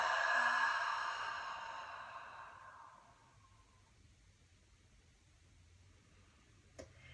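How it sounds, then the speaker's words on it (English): A slow exhalation during a guided breathwork practice, starting as a fairly strong breathy sigh and fading gradually over about three seconds into quiet room tone, with a small tap near the end. "Breathing out."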